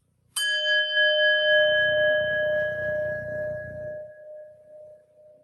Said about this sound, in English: So I'll ring a bell to start.